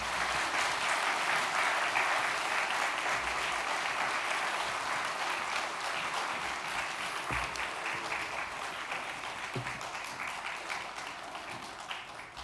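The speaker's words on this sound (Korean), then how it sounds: "다시 한번 큰 박수 부탁드리겠습니다" Sustained applause from a large church congregation at a Sunday service, dense and steady throughout, slowly fading slightly toward the end.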